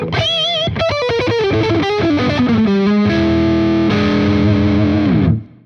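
Loud, heavily distorted Fender Jaguar Classic Player Special HH electric guitar with a thick humbucker tone, playing a sliding melodic run that settles into sustained chords before cutting off.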